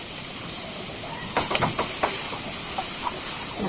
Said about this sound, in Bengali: মাছগুলোকে ভেজে নিব আগে, লবণ হলুদ দিয়ে মাখিয়ে নিয়েছি।